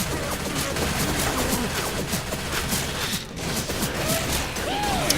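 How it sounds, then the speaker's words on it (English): Shotgun fire in Left 4 Dead comes as a busy barrage of sharp blasts and impacts, loud and dense over chaotic in-game commotion, with chatter mixed underneath. "he kills her in one shot with a basic shotgun"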